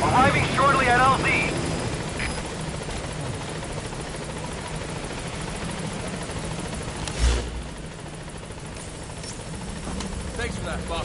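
A helicopter in Metal Gear Solid V arrives at a landing zone, its steady rotor drone running throughout beneath radio-style game dialogue, with a brief louder thump midway.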